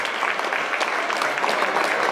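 Audience at a Hindu gathering applauding loudly to welcome a group of Brahmin priests, a dense, steady burst of close clapping filling the whole moment.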